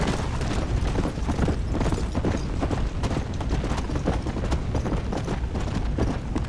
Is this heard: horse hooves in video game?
yes